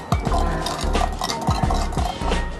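A spoon stirs tandoori tea inside a clay pot, giving repeated clinks and scrapes at a steady rhythm, close and fairly loud, with no one speaking.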